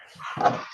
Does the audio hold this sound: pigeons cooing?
no